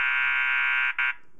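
An MA series sounder strobe sounds a loud, steady electromechanical alarm tone, briefly breaking off and restarting before it stops.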